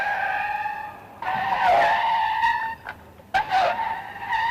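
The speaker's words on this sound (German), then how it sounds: "Der Bremsweg, gemessen vom Farbfleck bis zum stehenden Wagen, beträgt beim Kadett aus 100 Kilometern Geschwindigkeit 44 Meter" A 1963 Opel Kadett A braking hard from 100 km/h, with loud tire squeals that rise and waver in two bursts, separated by a brief quieter gap.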